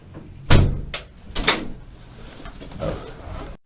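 A police station back door opens and closes, giving a sharp latch clunk and a heavier thud about a second apart, with softer handling noises and footsteps after, no talking.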